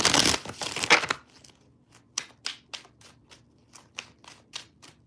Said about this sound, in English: One more last shuffle.